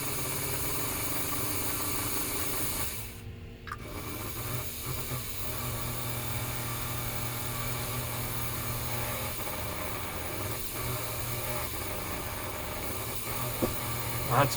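The motor of a 1946-50 Seaboard coal loader runs with a steady hissing hum and low vibrating drone, with a short dip in the sound and a few faint knocks later on.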